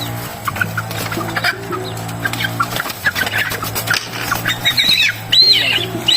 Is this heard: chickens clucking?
yes